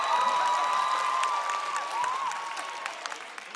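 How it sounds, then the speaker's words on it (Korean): Steady audience applause at a 2022 LINE UP Season 7 judge showcase, a dense wash of clapping from a crowd that fades slightly toward the end, with a faint high tone running through it. "큰 박수 부탁드리겠습니다."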